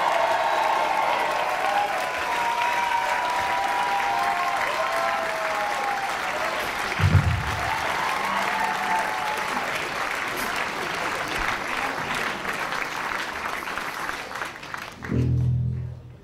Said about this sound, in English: give them a big round of applause for George and Riley